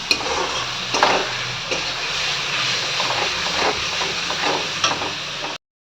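Spice masala with ground cumin stir-fried in a pan before cabbage goes in, giving a steady loud sizzle and scraping hiss that runs without a break until it stops abruptly.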